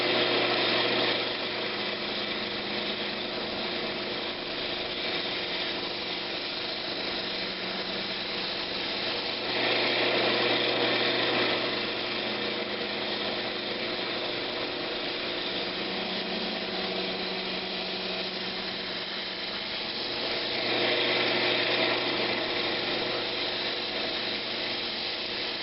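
A Brazilian cherry lidded box turning on a wood lathe while an ogee curve is cut, giving a steady close whir with a scraping, rubbing tool sound that swells and eases several times.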